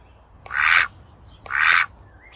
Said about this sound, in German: Maimuna begrüßt die Enten